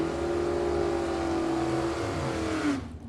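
Two drag race cars launch side by side, a '57 Chevy and Troy Bogner's '68 Camaro with a 383 small block, their engines giving a loud, sustained, close roar that cuts off abruptly near the end.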